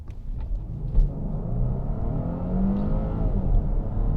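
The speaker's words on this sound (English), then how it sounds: "Like some of the other plug-in hybrids, the engine does come in when you are accelerating very fast." A 2017 Porsche Cayenne S E-Hybrid plug-in accelerating hard as its engine kicks in, a low steady rumble and whir building up and holding, heard from inside the cabin without talk.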